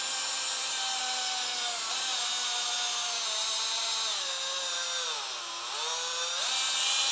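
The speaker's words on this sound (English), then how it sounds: "I think my drill just died. It's literally pouring smoke out" An overheating cordless power drill pouring smoke, trigger held down as the motor dies, gives a loud, steady whine whose pitch sags and wavers, dips sharply near the end, then recovers.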